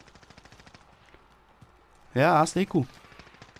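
Rapid gunfire crackles in the Warzone battle royale game, a steady stream of faint, distant shots ticking in quick succession while a player speaks loudly over part of it.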